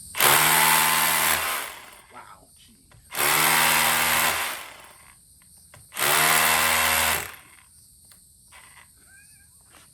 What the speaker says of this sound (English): So I'm going to go ahead and drill some holes in the side of my house.